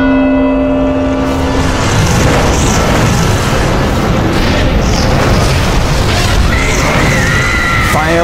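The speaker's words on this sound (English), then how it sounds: "Fire and brimstone erupted from the cauldron, instantly incinerating all five congregants." Fire and brimstone bursting from a cauldron in a dramatized scene: a loud, sustained roaring boom with deep rumbling and crackling that fills the whole stretch.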